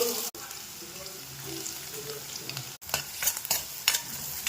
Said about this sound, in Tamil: ஆயில் சூடு ஏறின உடனே ஆனியன் சேர்த்துடலாம்